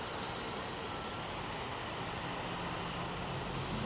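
An airliner coming in to land at London Heathrow with little reverse thrust, a steady broad roar of jet engine noise that holds constant and loud throughout, with no voices.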